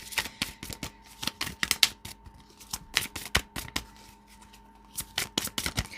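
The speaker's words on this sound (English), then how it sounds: "So let's pull some cards here for the Chakra Wisdom Oracle cards." Chakra Wisdom oracle cards are shuffled by hand, producing quick bursts of close, crisp riffling and flicking, with short pauses as cards are pulled, and no talking.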